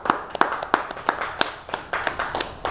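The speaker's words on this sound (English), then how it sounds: "I got to give it a round of applause." A small group claps irregularly for a high school sports team on a coaches' show, sharp close hand claps with uneven spacing, fairly loud and without talk.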